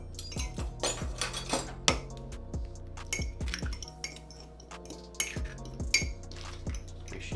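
A fork clinks and scrapes steadily against a mug while an egg is mixed into keto mug cake batter, a close, rapid rhythm of metallic taps and chimes with no talk.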